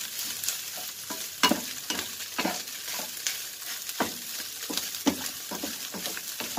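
Fried rice sizzles steadily in a hot pan while a utensil scrapes and stirs it in quick, irregular strokes, close and fairly quiet, with no voices.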